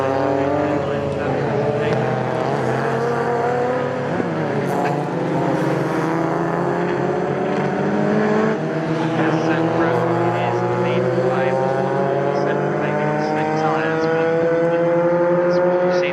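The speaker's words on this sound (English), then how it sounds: "these cars out on the circuit." Race cars in a BRSCC Clubsport Trophy race at Snetterton circuit: loud, continuous engine notes that rise and fall as the cars accelerate and pass.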